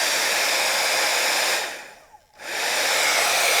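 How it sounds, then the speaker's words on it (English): A stick hair dryer blows with a loud, steady whooshing roar, cuts out briefly in the middle, then starts up again at full strength. "So I'm grabbing my hair dryer, which is basically a stick hair dryer that I use."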